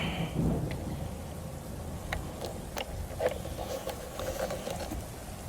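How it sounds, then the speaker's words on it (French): A sudden thunderstorm breaks with torrential rain, a steady downpour pattering on surfaces while sharp thunder cracks and rumbles recur throughout, with no talking. "l'orage vient de se déclencher. Et ça pleut à torrent, mais d'un seul coup, net."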